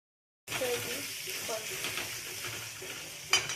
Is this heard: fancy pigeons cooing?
no